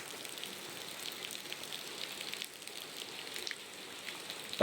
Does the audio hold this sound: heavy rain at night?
yes